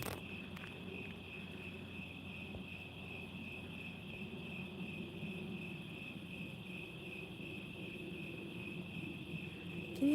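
Steady high-pitched cricket chirping outdoors, a continuous faint insect drone with low background rumble from a plane flying over.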